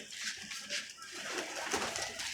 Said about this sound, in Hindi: देखें जी उड़ा हुआ कबूतर आया है